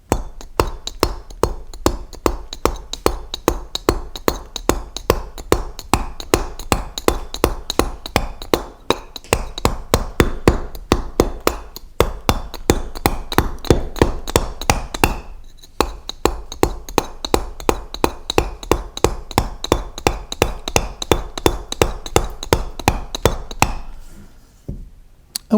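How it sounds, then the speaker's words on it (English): A mallet drives a flat chisel into wood, a fast, steady run of sharp knocks continuing for about 25 seconds with a few brief pauses, close and fairly loud. "you can get a lighter mallet such as this and carve much more"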